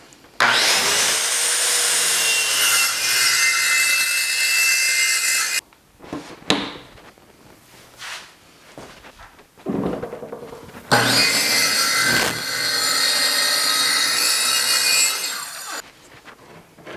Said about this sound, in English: I have used my track saw to cut all the pieces that go on the top of the benches and the bottom